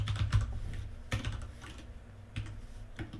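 Keys on a computer keyboard clack in short, quiet clusters as C# code is typed, with brief pauses between the keystrokes and no voice over them.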